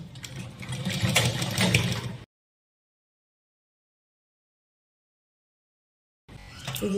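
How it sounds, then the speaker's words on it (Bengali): A sewing machine stitches a blouse in two short runs of quick mechanical whirring and clatter, separated by several seconds of silence, heard up close. "দুটো ছোট দিক দেখো একই দিকে রেখে আমি এবার এরকমভাবে এখান থেকে সেলাই করে নিয়ে যাব।"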